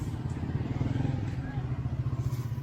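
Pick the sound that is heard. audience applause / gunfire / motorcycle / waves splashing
motorcycle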